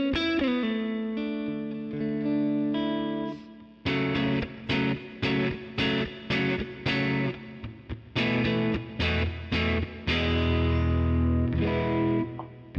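Electric guitar played through an Ampero Mini with overdrive and reverb, sustained heavy chords giving way to rhythmic chugging strummed stabs with short gaps, loud and up close, no talking.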